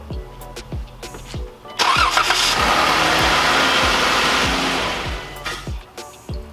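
A Jeep Wrangler engine cranks with rhythmic starter thumps after an oil change, catches with a roar, settles into a steady idle, then shuts off to more cranking-like knocks.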